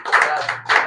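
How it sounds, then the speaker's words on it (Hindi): Audience applause for Jagmohan at a closing-day gathering of a repairing training centre in Berhampur, Odisha: a short, loud burst of hand clapping lasting under a second, with no talk over it. "जगमोहन भाई पे गोटे ताली हो भाई"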